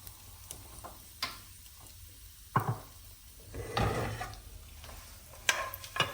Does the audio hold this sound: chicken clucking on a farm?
no